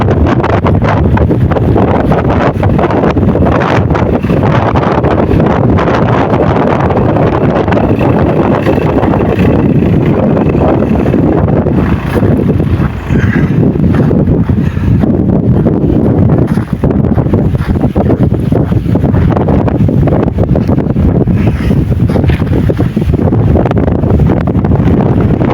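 A strong northern wind roars and buffets the microphone without a break, dense and loud, out in snowy open country far from home.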